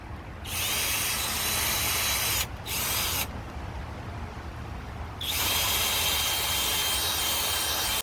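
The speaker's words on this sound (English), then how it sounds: "Stick your valve in a drill. We got some Scotch-Brite." A power drill whirs steadily, with a brief pause and a gritty scrubbing hiss as a Scotch-Brite pad cleans a spinning engine valve from a 1996 Honda Accord.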